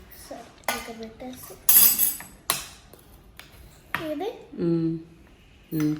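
A steel spoon knocks and clinks against a dish while stirring, a few sharp metallic taps scattered between a child's and an adult's talk.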